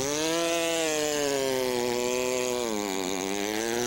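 A man nicknamed the Chainsaw Man imitates a chainsaw with his voice, a loud, sustained buzzing drone that rises and wavers in pitch like an engine revving, close and alone.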